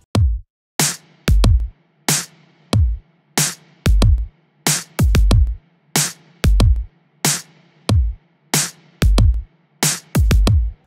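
Pop drum beat built on punchy, booming kick drums that thud in a steady syncopated pattern, with snappy snares between them; loud, dry and close, with no voices.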